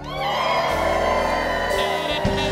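Live audience at an inspirational spiritual talk screaming, whooping and cheering together, a loud sustained crowd roar that carries on steadily with no pause.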